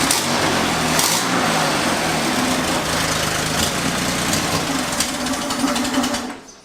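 A Chevrolet Corvair engine from a barn find runs near and fairly loud while the wheels spin up on a floor jack, giving a steady mechanical whir and rattle that fades out at the end.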